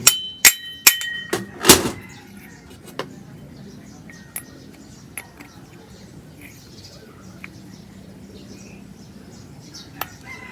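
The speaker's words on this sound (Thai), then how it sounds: "ใส่กิ๊บเข้าไปเหมือนเดิมนะกิ๊บล็อกนะ ตีแน่นไป" A lock clip is hammered back onto a shaft in a burst of five or six sharp, loud metallic strikes near the start, followed by a few faint isolated taps over a quiet background.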